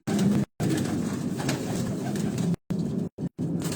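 Racing pigeons cooing in a steady, dense murmur close by, with abrupt cuts of silence breaking the flow.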